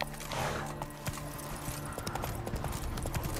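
The horse Roach gallops in The Witcher 3: Wild Hunt Remastered on PS5, a quick, continuous clip-clop of hooves at moderate volume over ambient game sound, with no talking.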